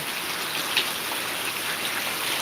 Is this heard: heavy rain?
yes